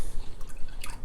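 A tablespoon of water drips and splashes into a stir-fry sauce for beef with green beans, a single brief, close liquid plop with no talk.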